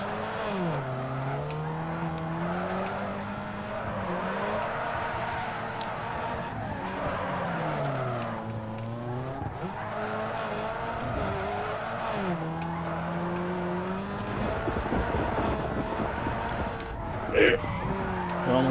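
A Mazda Miata drifts in Need for Speed Underground 2, its engine droning and wavering in pitch with sustained tyre squeal, loud and continuous throughout, ending in a brief sharper skid.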